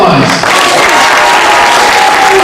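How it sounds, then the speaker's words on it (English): A loud, sustained round of applause at an 8th grade moving-up and awards ceremony, with a dense wash of clapping close by and crowd noise mixed in. "One more round of applause."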